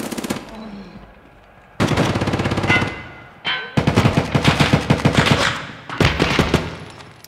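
Automatic gunfire in the Escape From Tarkov Arena video game: loud, close bursts of rapid shots in several separate strings, each a quick rattling rhythm, with short gaps of quiet between bursts.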